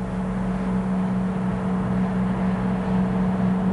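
A forage harvester with a trailer manoeuvres around a tree in a grass field. A steady, droning engine hum holds at an even level with no talk.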